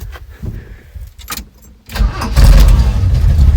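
A Chevrolet C10 pickup cranks briefly under key jingles and rattles, then catches and settles into a loud, steady idle, close by and rumbling.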